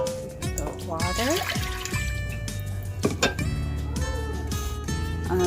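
Water is poured into a pan while cooking General Tso chicken, a gurgling trickle and splash amid kitchen clatter, heard together with a voice talking.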